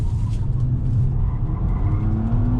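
2019 Nissan Maxima Platinum on Goodyear Touring tires pushed hard through a corner, a steady close engine drone with tire noise and a rising tone toward the end.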